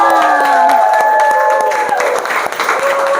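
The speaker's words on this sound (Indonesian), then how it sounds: "Oke, tepuk tangan semuanya" Children applaud together in a classroom, a steady dense patter of clapping with overlapping young voices and sustained tonal calls rising over it at close range.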